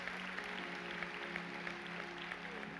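Steady applause from a church congregation, thanking a group of speakers, sustained and fairly faint throughout.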